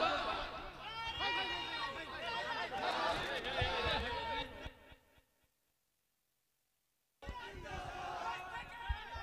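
A crowd at a religious sermon gathering chants the takbir slogan Allahu Akbar in loud, massed voices, then falls silent for a couple of seconds before the chanting surges back.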